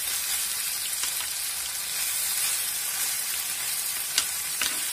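Tomatoes roast in a pan for a chicken dish, a dense, steady hiss of frying with a few brief crackles and pops, close and loud, with no talk.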